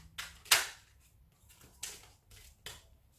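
Several quick papery riffling bursts of tarot cards being shuffled, close and crisp, separated by short pauses, with no voices.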